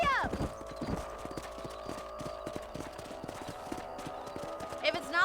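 Horse hooves clip-clop at a steady gallop in the Red Dead Redemption video game on Switch, a continuous rhythmic thudding under a game character's spoken lines, with a brief whinny near the start.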